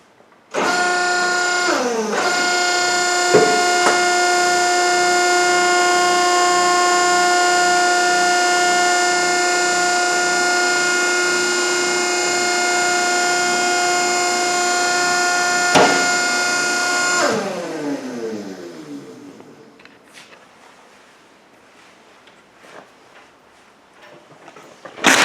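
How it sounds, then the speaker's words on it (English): Baler running its bale-ejection cycle, a loud steady harmonic motor whine holding for about fifteen seconds, then winding down and falling away to quiet clanks and rattles. "we're getting ready to eject the bale"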